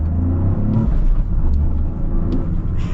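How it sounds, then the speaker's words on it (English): Exhaust and engine rumble from a 2023 Toyota GR Corolla Circuit Edition with a manual transmission, a steady loud low drone with brief higher whooshes of turbo blow-off near and continuous throughout. "you get a little bit of turbo blow off."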